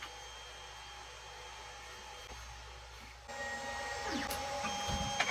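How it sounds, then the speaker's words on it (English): A 3D printer with a BLTouch auto-leveling probe warming up and running, a quiet steady hum with fan whine and thin tonal lines, growing louder midway as motors start stepping with faint chirps toward the end; no speech. "This printer's warming up."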